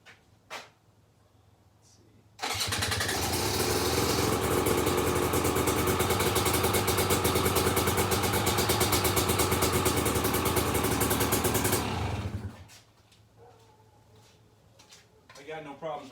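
KTM 300 XC/W two-stroke dirt bike engine after a top end rebuild with a new piston, starting abruptly and running at a loud, steady, buzzing idle for about ten seconds before shutting off.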